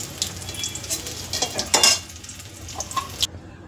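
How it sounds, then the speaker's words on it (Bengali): Eggplant fries in hot oil in a home kitchen, a steady crackling sizzle stirred now and then with sharp spatter bursts, close and moderately loud, then cut off abruptly near the end. "বেগুনটা লাল করে ভাজা হয়ে গেছে।"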